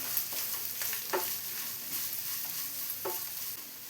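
Grated coconut frying in a pan for a pumpkin and red cowpea erissery, a soft continuous sizzle with a few scraping stir strokes, fairly quiet and without speech.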